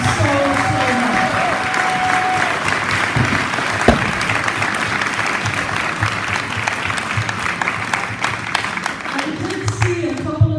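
A lecture audience gives a sustained round of applause for Dr. Tallamy, dense steady clapping from many hands filling the room for about ten seconds with no talk over it.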